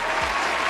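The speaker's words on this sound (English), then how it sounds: "Give her a round of applause." Brief burst of crowd applause, steady and fairly loud, lasting under a second.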